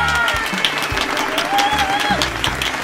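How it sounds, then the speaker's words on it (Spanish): A studio audience applauds and cheers for a guest introduced on a podcast interview show, loud close clapping with music or tonal sounds and voices mixed in over a few seconds. "Un aplauso para ella."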